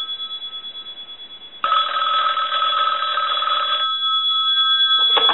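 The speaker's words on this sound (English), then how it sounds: "We are ready to do our final test with ringing the bell." Bell on a 525B police and fire call box telephone rings loudly and continuously for about two seconds after a softer pulsing tone, then stops and briefly starts again at the end.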